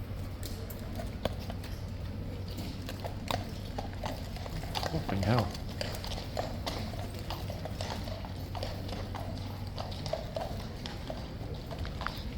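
A King's Guard horse's hooves clip-clop steadily and close amid busy outdoor crowd noise at Horse Guards, London, with someone speaking briefly partway through.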